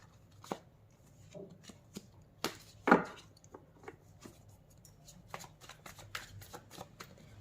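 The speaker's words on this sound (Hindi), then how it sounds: "जब भी मैं कार्ड शफल कर रही होती है" Tarot cards are shuffled by hand close up, a series of soft riffling flutters and sharp papery taps spread irregularly over several seconds, quiet with no talking.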